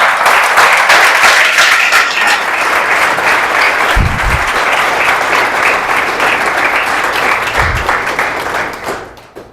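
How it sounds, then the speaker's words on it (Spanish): A church congregation applauds throughout, a steady, dense wash of clapping from many hands that holds loud for about nine seconds before tapering off at the end. "aplauda al Señor aunque sea."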